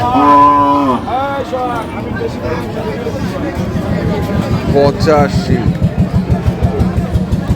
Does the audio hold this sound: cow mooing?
yes